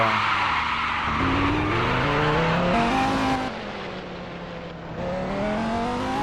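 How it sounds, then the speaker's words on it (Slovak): A Lamborghini Huracan in a car driving simulator game skids with a long, loud tire squeal over the steady roar of its engine as the pitch rises and falls, heard alone without talk. "Ja hovorím, že to strašne šmyká to auto."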